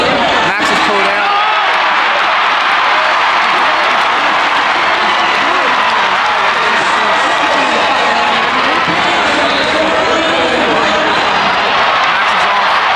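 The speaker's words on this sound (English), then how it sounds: "the crowd is going crazy" A big crowd at the Australian Grand Prix roars and cheers continuously, a loud, dense wall of noise with clapping mixed in and a voice speaking over it.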